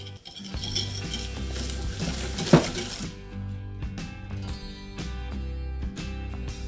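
A whisk clinks and scrapes against a mixing bowl while egg yolks are beaten with white sugar, a busy metallic rattle with one sharp knock, then quicker rhythmic strokes, close and fairly quiet.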